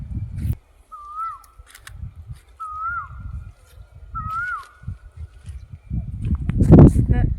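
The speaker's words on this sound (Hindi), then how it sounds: "कितनी अच्छी साउंड आ रही है कोयल की" An Asian koel calls three times at even intervals in a quiet rural village garden, each a clear rising-falling whistle, with low rustling and handling noise between calls and a burst of louder noise at the end.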